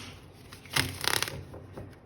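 A deck of tarot cards riffled and shuffled by hand, two quick bursts of crisp flicking and fluttering, close up and alone with no talking.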